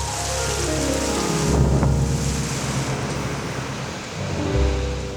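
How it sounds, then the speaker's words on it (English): Steady heavy rain pours over a front yard cottage garden while low rumbles of thunder swell and fade beneath the constant hiss, with wind buffeting the microphone. "And then it rained."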